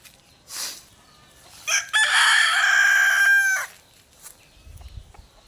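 A rooster crows loudly and close by in one long call on a farm, with a few scattered clucks from chickens before and after.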